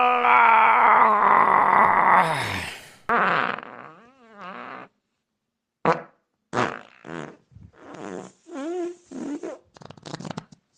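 A long, loud, rumbling fart sound effect stretches out up close, followed by a series of shorter sputtering and squeaky bursts separated by brief silences.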